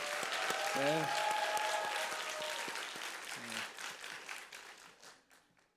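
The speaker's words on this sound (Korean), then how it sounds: "우리 하나님께 영광의 박수" A church congregation at a Sunday worship service in Korea claps together in praise, a dense wash of applause that swells early then gradually thins and fades out, with a voice speaking briefly over it.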